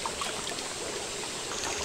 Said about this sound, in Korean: 물소리 봐.